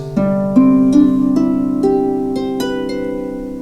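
A harp trill rocks gently back and forth between D and a neighboring note at the end of a run, several soft plucks ringing over a sustained low chord.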